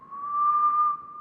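Someone whistles one clear, steady sustained tone, close and fairly loud, lasting about a second with a slight dip at the end.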